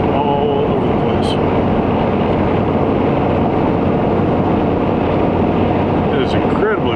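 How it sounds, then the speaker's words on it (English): Strong wind battering a hilltop in South Dakota, a loud, constant roaring buffet across the microphone that drowns nearly everything, with faint voice fragments barely surfacing. "It is incredibly windy up here."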